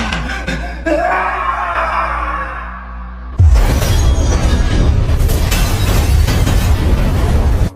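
Hand grenade blast in a tense crime drama scene, tense music suddenly broken by a loud, sustained roaring explosion with crackling debris that fills the rest of the moment before cutting off.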